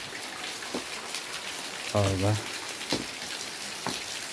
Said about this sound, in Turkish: Yağmur bastırdı arkadaşlar.